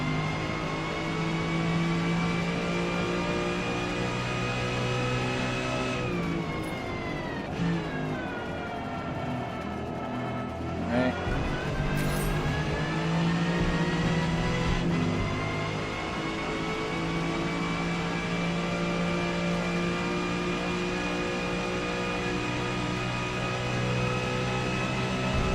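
Non-turbocharged car engine in the racing game Gran Turismo 7, a steady loud harmonic drone held at high revs throughout, with a brief dip in pitch midway as it lifts off and then climbs back up.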